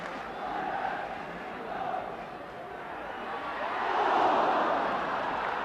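A 1978 football crowd roars encouragement for Wolves against Manchester United, a dense, continuous stadium roar that rises into a louder swell toward the end.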